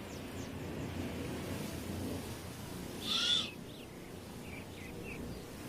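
A great horned owl, guarding its nest, gives a single brief hoot over a steady outdoor background hum, with faint bird calls around it.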